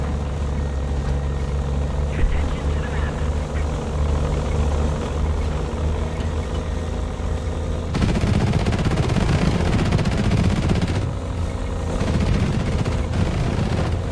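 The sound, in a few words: gunfire shooting at drones in video game War Thunder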